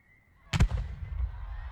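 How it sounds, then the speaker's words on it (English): A single sharp firework burst goes off over a city, a sudden loud crack followed by a low rumbling tail that fades out. "Hey, there goes the first of the city's fireworks."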